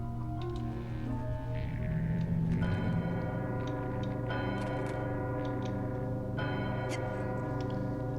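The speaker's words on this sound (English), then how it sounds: "That has to cause some problems ringing a giant bell underwater." A giant bell rings underwater in the video game Psychonauts, sounding as deep, sustained resonant tolls that strike and swell several times over a low droning background.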